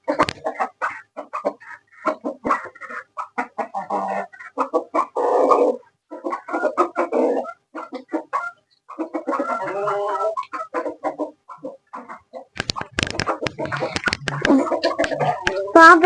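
Chickens and a rooster on a home farm in Pakistan, clucking in busy bursts, close and fairly loud, with brief breaks and a louder flurry near the end.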